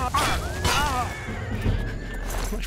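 A horse in the game The Elder Scrolls IV: Oblivion gives a loud, close whinny that shakes and trails off, followed by quieter ambient sound.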